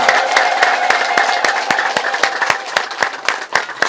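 A crowd at a church charity feast in Ethiopia claps warmly, a dense continuous patter of many hands with sharp individual claps standing out, loud and close.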